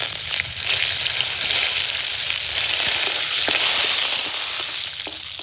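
Mustard seeds, bay leaf, dried red chilli and curry leaves sizzle steadily in hot oil, a loud, continuous bright crackle and spatter with small pops that holds throughout and fades slightly at the end.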